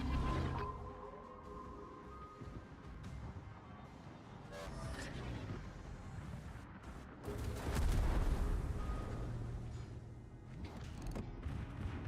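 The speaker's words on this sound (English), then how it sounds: "Ooh, torpedo hits." Torpedo hits explode against a warship in World of Warships, a series of deep, rumbling booms and crackling blasts spread across the stretch, rising to a heavy roar near the middle.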